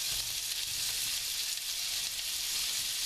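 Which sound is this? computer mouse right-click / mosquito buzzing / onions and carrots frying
onions and carrots frying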